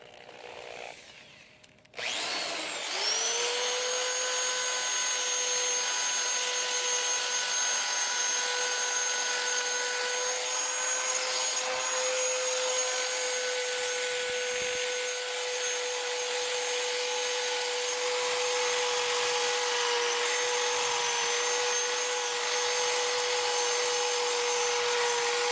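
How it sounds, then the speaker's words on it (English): A high-speed rotary tool with sanding rolls smooths the exhaust ports of a 1.8T 20v cylinder head, a loud, continuous whine that starts after a brief pause and holds steady. "now we're going to go in there and clean it up with the sanding rolls again"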